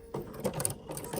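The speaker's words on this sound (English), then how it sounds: "Now start sewing. You notice how it went backwards, and now it's going to go ahead and cut your thread." A BERNINA Mastery 3 jumbo bobbin sewing machine stitches in reverse and then trims its thread, a quiet close-up run of rapid mechanical whirring and clicking pulses.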